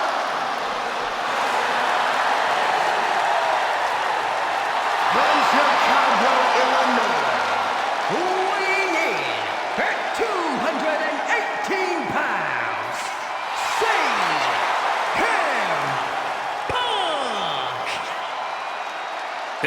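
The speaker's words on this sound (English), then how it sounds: "Just listen to this ovation for the Second City Saint." A wrestling arena crowd in WWE 2K26 gives a long ovation for CM Punk in his hometown, a steady roar of cheering and whooping with chanting swells throughout.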